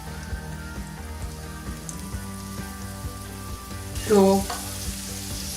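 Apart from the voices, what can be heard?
raisins frying in oil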